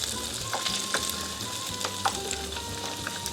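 Korean corn dogs frying in hot oil, a steady dense sizzle with small pops and crackles throughout, moderately loud and close, no voices.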